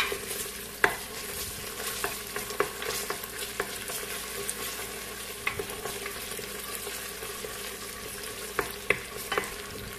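Pepper paste and tomato paste fry together in a pan, a constant low sizzle broken by sharp scraping clicks from a stirring utensil at irregular intervals, close by and with no voices.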